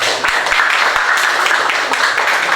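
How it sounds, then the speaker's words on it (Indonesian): Dense, close applause from a classroom group, a steady wash of clapping with no pauses. "Tepuk tangan untuk Desa"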